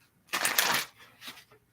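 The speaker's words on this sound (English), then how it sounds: "last shuffle" A quick riffle of tarot cards being shuffled, a dense flutter followed by a couple of shorter softer riffles, close and fairly quiet.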